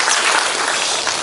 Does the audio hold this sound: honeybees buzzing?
no